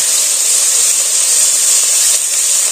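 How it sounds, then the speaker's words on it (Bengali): Chopped onion and a bay leaf frying in mustard oil in a pan, a steady, loud, continuous sizzle that holds evenly throughout with no talking. "ওই খোলাতে আমি আর একটু সরিষার তেল দিয়ে দিচ্ছি। এবার দিয়ে দিচ্ছি একটা তেজপাতা, আমি দিয়ে দিচ্ছি পেঁয়াজ কুচি"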